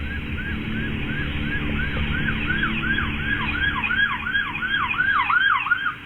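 Emergency sirens wail from several police cars racing to a scene, repeated rising and falling whoops that grow louder and denser as the vehicles draw near, over a constant traffic rumble.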